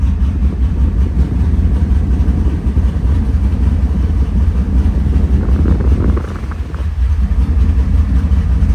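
A 2002 Chevrolet Camaro Z28 idles with a loud, deep and steady engine rumble that stays close and unbroken throughout, with a slight dip in level partway through and no voices over it.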